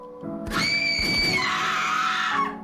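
A shrill, sustained scream from the video game The Letter, rising sharply and holding for about two seconds over a low background before cutting off.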